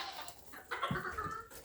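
Farm chickens clucking close by, a few soft short clucks and calls scattered over a quiet outdoor background, fairly faint, with no talking.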